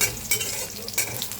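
Food frying in a generous amount of oil in a pan, with a steady sizzle under repeated stirring and scraping strokes, close and moderately loud, no talk.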